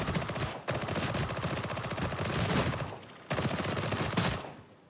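Rapid sustained gunfire from a gun in Warhammer 40K: Darktide, wielded in the Zealot's Herald of Admonition build; loud, dense automatic bursts roaring continuously with a brief break before firing resumes, no talking.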